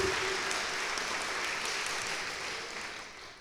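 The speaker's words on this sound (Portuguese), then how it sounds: "Então louve a Deus com as suas palmas." A church congregation at a Pentecostal worship service applauds, a dense steady wash of clapping that fills the whole span and tapers slightly at the end.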